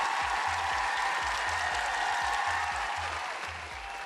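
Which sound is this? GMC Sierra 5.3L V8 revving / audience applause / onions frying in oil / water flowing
audience applause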